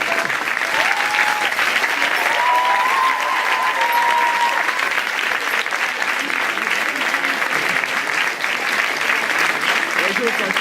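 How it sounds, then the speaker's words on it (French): An audience at a student competition final gives a sustained round of applause for the contestants, a dense, even clapping wash that continues steadily throughout, with faint voices mixed in. "il faudrait encore les applaudir une fois"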